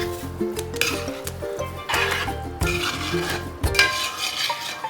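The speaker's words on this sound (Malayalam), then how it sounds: "അട നെയ്യിലിട്ട് വറട്ടിയെടുക്കാം." Ada pieces roasting in ghee in a pan, close and steady, with repeated metallic clinks of a spoon stirring against the pan over a soft sizzle, with no talking.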